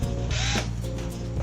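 A faster power drill whirs in a quick burst while working on a Ford Falcon engine, its high whine rising briefly over a steady low hum, close and loud with no talking.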